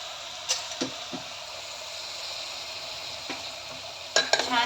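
Rice and dal with soya chunks are stirred and roasted in a hot pan for soya khichdi: a continuous low sizzle broken by a few sharp spoon scrapes near the start and a louder cluster of scrapes at the end.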